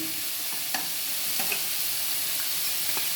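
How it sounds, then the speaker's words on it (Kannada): Vegetables for a pulao fry in a pan with turmeric powder and garam masala: a continuous bright hiss with scattered soft stirring taps, close and alone. "ಇದಿಷ್ಟು ಒಂದು ನಿಮಿಷ ಫ್ರೈ ಆದರೆ ಸಾಕು"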